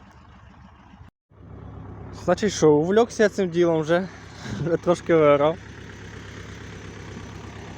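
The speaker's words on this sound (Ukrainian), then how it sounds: "Так що я завожусь, завожу трактор і побачимо, що воно буде." Kentavr 404 SD tractor engine idling with a steady low drone that starts abruptly after a brief gap, running under someone talking in the field.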